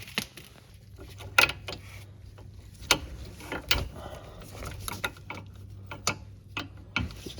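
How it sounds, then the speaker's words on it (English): A ratchet loosens the wheel bearing bolts on a Nissan Altima, giving irregular clicking and clacking strokes with metallic knocks, close and moderately loud, and no talking. "And then I'll just finish them off with the ratchet and wrench."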